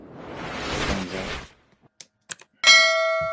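A bright notification bell dings once and rings out, preceded by a broad rushing whoosh and a few small clicks.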